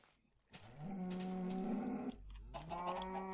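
A cow in the video game Minecraft gives a long, drawn-out moo, followed shortly by a second moo, both close and clear with no talking.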